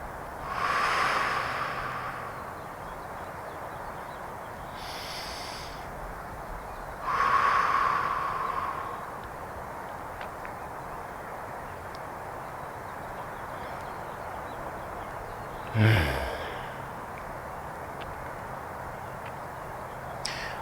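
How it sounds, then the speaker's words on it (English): Slow, deep breaths in and out during a calm yoga session, a long airy inhale and exhale repeated at a relaxed pace, close and soft, with a brief sharper breath near the end. "Breathe in and breathe out."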